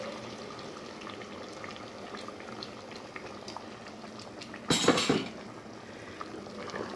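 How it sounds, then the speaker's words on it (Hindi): Water is poured into a simmering potato and beef curry (aloo gosht), a short splashing burst near the end rising over a steady, close bubbling sizzle from the pot. "अब मैं उतना पानी डाल लूँगी जितनी मुझे इसकी ग्रेवी चाहिए।"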